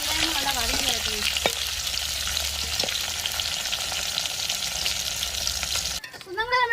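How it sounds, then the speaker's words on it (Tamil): Onions and green chillies frying in oil for a sea-fish curry, a steady close sizzle with a few stirring scrapes, ending in a brief burst of louder crackle. "உங்களுக்கு எண்ணெயிலேயே பச்சை மிளகாவும் வெங்காயமும் நல்லா வதங்கி வரணும்"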